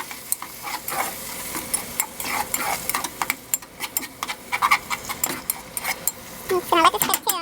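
A spoon scrapes and knocks around a pot of Kenyan coconut curry with tomatoes being mixed, irregular clinks and stirring under a low simmering sizzle, with a voice briefly heard.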